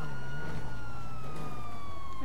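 A police car siren in the Grand Theft Auto V video game wails loud and continuous with a slowly falling pitch over a low engine drone.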